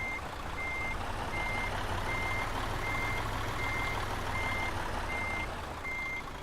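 A truck in a trucking video game backs into a parking spot, its reversing alarm beeping in a steady, evenly spaced pattern over a constant low engine drone, clear and alone.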